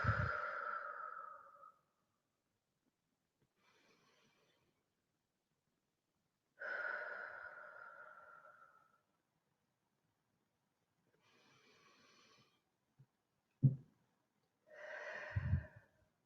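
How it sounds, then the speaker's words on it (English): Slow deep breaths taken during a guided breathing exercise, long airy inhales and exhales separated by quiet pauses, close and soft, with a couple of sharper breathy bursts near the end. "take 3 deep breaths"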